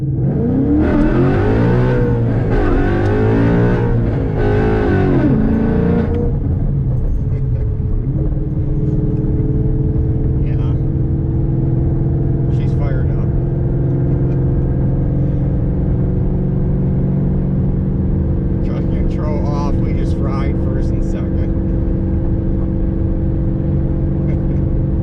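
S197 Ford Mustang with a Tremec T56 manual gearbox revving hard in a quick pull, a loud deep engine roar rising and falling through the revs before settling into a steady rumbling drone close by.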